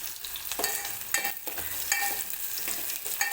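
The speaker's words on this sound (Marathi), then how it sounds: "लसूण थोडासा गोल्डन रंग येईपर्यंत जर भाजला तर फोडणी सुद्धा छान बसते" Garlic crackles and sizzles in hot oil, broken by several scraping strokes of a spoon against the pan; close and moderately quiet, no voices.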